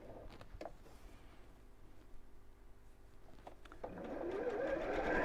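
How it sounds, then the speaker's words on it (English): A sewing machine stitches down the long lining side of a rug, its motor whirring steadily and getting louder toward the end, with softer clicks and handling noise before it. "Okay, then I'm going to sew down."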